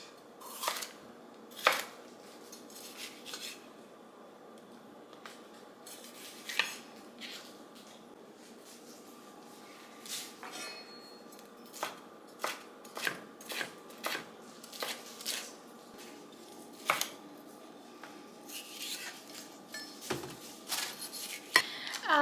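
A knife slices rinsed bell peppers on a cutting board, giving sharp irregular clicks and taps close by, some in quick bursts, over a quiet background with no talking.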